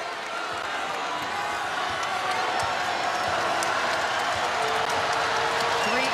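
A basketball arena crowd roars and murmurs steadily after a foul call in a Gonzaga versus Utah game, a loud, sustained wash of voices with scattered shouts, while a commentator talks over it.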